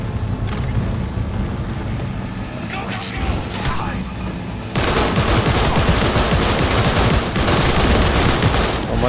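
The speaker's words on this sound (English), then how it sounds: "Super overheating guns." Rapid automatic gunfire from overheating weapons in Cyberpunk 2077, a dense unbroken fusillade with mechanical clatter and booms that grows heavier partway through, loud and close.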